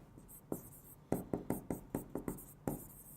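Chalk or marker taps and strokes on a classroom board, a series of sharp, close, rhythmic knocks and scratches with short pauses, no talking.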